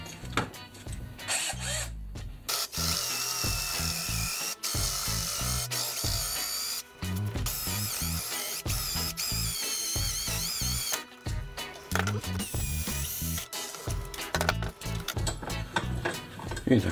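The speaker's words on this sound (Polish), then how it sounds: "nic na siłę, wszystko wiertłem" A power drill runs loud and steady for most of the clip, drilling out stuck bolts on a scrap starter motor, grinding through metal with brief pauses and restarts.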